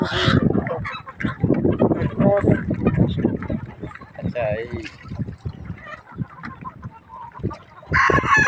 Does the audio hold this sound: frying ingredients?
no